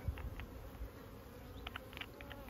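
Honeybees buzz faintly and steadily around beehives outdoors, a low, quiet insect hum with a few soft taps, and no voices.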